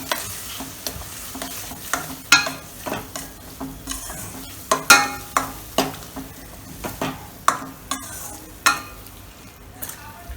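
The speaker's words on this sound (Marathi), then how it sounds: "थोडंसं बेसन, एकदम थोडं टाकायचं, जास्त नाही टाकायचं, आणि ह्याला छानपणे हलवून घ्यायचं आहे आपल्याला" Gram flour being stirred into masala frying in oil for misal, with a steady sizzle under repeated scraping strokes of a spoon against the pan, close and fairly loud.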